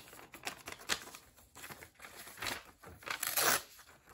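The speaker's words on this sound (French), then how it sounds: "On va déchirer les bords pour ce rituel-là." Paper being torn and crinkled in short bursts, a close, crisp ripping texture that swells and fades several times.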